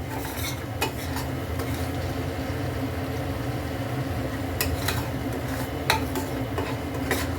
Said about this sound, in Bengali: আর একটু কষিয়ে নিই দেখুন মশলাটা পুরো প্রায় কষাই হয়ে গেছে